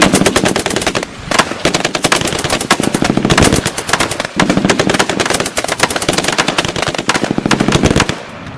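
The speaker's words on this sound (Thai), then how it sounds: "M16 ผสมปืนกลเบา M60 จากผมสองคน แผดเสียงฉีกความเงียบให้แผ่ซ่านขึ้นมาก่อนทันที" An M16 rifle and an M60 light machine gun fire together in a long, loud, rapid stream of automatic bursts that hammers on for several seconds with only brief gaps.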